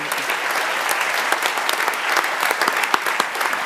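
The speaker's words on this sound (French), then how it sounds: "Vous pouvez également de nouveau l'applaudir." A large audience claps steadily and warmly throughout at a fantasy film festival awards ceremony, with dense, even applause filling the hall.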